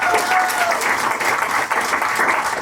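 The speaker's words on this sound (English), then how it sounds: "So, well, give a round of applause." Audience applause at a stand-up comedy show, a dense, steady wash of clapping that holds at full strength for a couple of seconds without a break.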